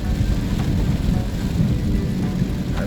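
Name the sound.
heavy rain, heard while driving a car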